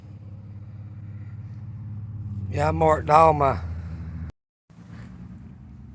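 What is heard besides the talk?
car passing by on the road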